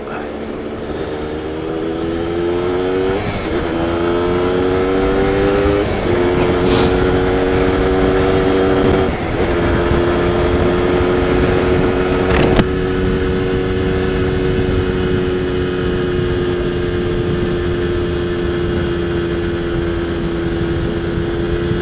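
Close up, an Aprilia RS125 two-stroke motorcycle on a country road near Lothersdale climbs through several gear changes, each rise in engine pitch cut by a shift, then holds a steady high whine in top gear against wind rush.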